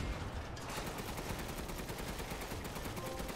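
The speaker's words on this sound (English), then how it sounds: "Machine gun" Machine gun fire in Resident Evil Village, a video game played on PS5, rattles nonstop in a dense, loud, rapid stream of shots throughout.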